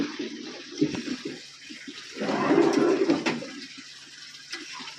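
Water is poured into a cooking pot of vegetarian shukto with fried lentil dumplings, a gushing, splashing pour that swells to a full rush midway, then trickles off amid light clatter.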